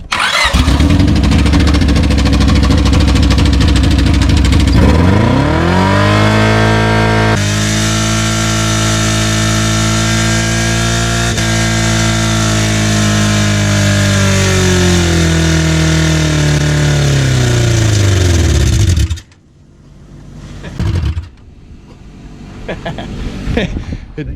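A car engine bursts into life and is held at full throttle, a loud sustained roar with wavering pitch that runs for about fourteen seconds before cutting out abruptly, followed by a few faint rattles and the motor being cranked again.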